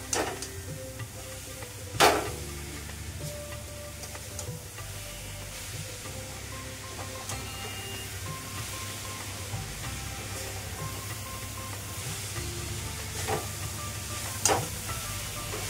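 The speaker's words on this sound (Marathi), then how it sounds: "हे मिश्रण आपल्याला सारखं ढवळत राहायला लागतं, नाहीतर खाली करपू शकतं।" A coconut vadi mixture of fresh grated coconut is stirred in a pan as it cooks, giving a steady soft sizzle and hiss, with a few sharp scrapes of the spoon against the pan.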